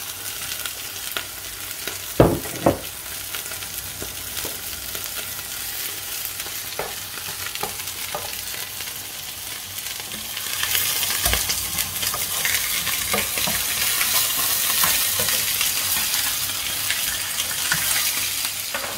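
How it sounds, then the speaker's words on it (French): Onions frying in oil in a pan while a cheeseburger is being prepared. A steady sizzle runs throughout, with a couple of sharp clacks near the start, and the sizzle grows louder and brighter partway through. No one speaks. "je vais rajouter les oignons. Alors on va rajouter un petit peu d'huile"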